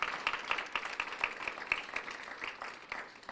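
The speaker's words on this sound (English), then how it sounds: "A round of applause for these beautiful condominiums" Applause at a city beautification awards ceremony after commendations are presented to condominium properties, with a small audience clapping in scattered, fairly sparse claps that stay moderately quiet and continue steadily.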